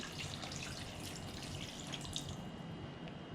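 Water poured into a pot of simmering curry, a steady soft pouring and splashing with faint drips, close by and alone, lasting a few seconds.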